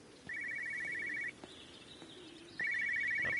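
Telephone ringing in the video game Everybody's Gone to the Rapture, a bright electronic trill in two long bursts separated by a pause, clear over a soft ambient backdrop.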